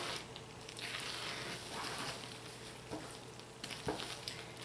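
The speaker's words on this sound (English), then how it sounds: "And then I just go ahead and carefully stir it in." Oils, shea butter, cocoa butter, vitamin E and glycerin are stirred into hot process crockpot soap with turmeric and paprika, making a steady close sizzling, squishing churn with a few soft knocks.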